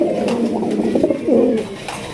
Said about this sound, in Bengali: বামে যেটা ডাকতেছে নর, আর ডানে যেটা আছে মাদি।